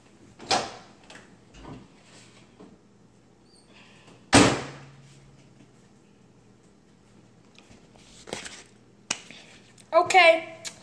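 A few sharp clacks and thumps of a microwave door opening and shutting, spaced apart, with one loud bang and voices briefly at the end.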